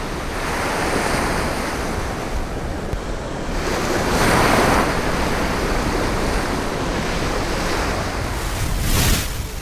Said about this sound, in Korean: 파도가 심상치 않다.